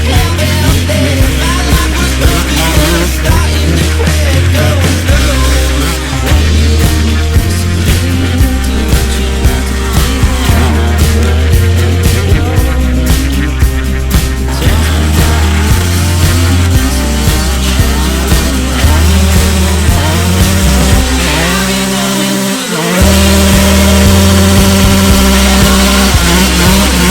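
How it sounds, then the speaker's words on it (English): Loud, close Gas Gas 150XC two-stroke dirt bike engine revving hard and continuously during wheelies, with a sustained buzzing drone and a brief dip in revs near the end. "I freaking hate wheeling this bike, but I'm gonna try and give you guys a"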